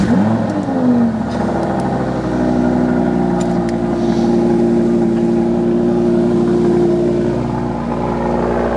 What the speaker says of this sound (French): Et là t'as le V10, le moteur.